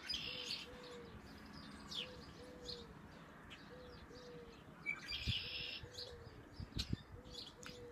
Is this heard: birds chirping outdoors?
yes